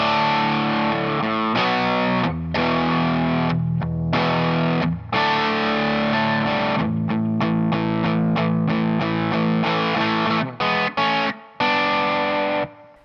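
Distorted electric guitar playing a pre-chorus, loud and close, with thick sustained power chords broken by short rhythmic stops and choppy accents near the end, no voices.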